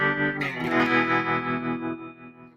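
An electric guitar rings out through a VOX AC30 amp with its tremolo engaged and reverb switched off, a struck chord swelling in with a pulsing, wavering sustain that slowly fades.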